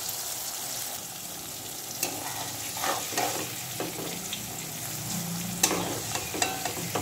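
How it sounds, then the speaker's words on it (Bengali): Steady hiss of thinly cut chicken frying in hot oil with occasional crackles and the scrape of stirring, no voices. "এটা ভাজা হোক।"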